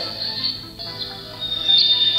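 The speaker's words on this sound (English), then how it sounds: "The second, I think, is a night forest." A Tecboss wake-up light plays its night forest sound: a steady, high insect-like trill with scattered soft chirps over a low hum, continuous and fairly faint throughout.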